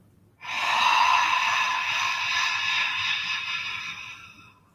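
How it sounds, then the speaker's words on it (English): A deep breath let out slowly through the mouth during a yoga class, one long, steady, airy exhale lasting several seconds, close and clear, with no talking. "Inhale, nose. Filling it all the way up to the top. And then let it out through the mouth."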